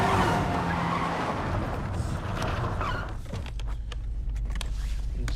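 A car lurches forward when the driver's foot slips on the accelerator, giving a loud engine surge and tire skid that fades after about three seconds into scattered clicks, thuds and movement noise.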